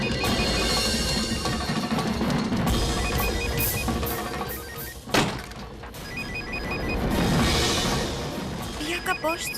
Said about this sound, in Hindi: ये तो पिया की फोन की घंटी है